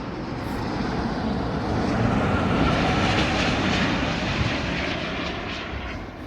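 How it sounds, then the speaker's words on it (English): A Virgin Atlantic Airbus A350-1000 jet roars steadily overhead at London Heathrow, a loud, broad engine rumble that holds for several seconds before easing slightly as it climbs away. "It's an Airbus A350-1000 for Virgin Atlantic."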